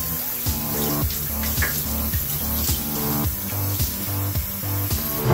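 Running water rinses grain for mushroom spawn to wash out the starch, a steady flowing splash with rhythmic sloshing pulses repeating every half second or so, close and fairly quiet.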